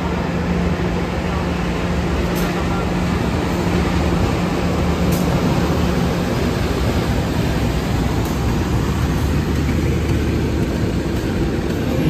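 Senja Utama Yogyakarta passenger train riding along, a steady loud rumble and rattle of carriages on the rails with a constant low drone, unbroken for the whole stretch.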